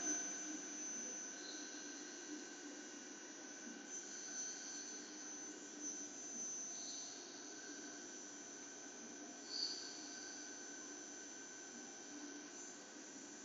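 CNC machine spindle running at 6,000 RPM, a steady high whine and hum holding level throughout with faint tonal chirps above it.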